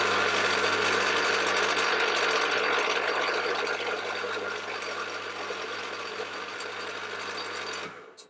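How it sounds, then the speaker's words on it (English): A spot drill on a milling machine spots holes in metal parts for a knurling tool kit, giving a loud, steady mechanical whir and grind that runs unbroken for about eight seconds before spinning down. "My tool is a spot drill and I've moved it 1 inch down"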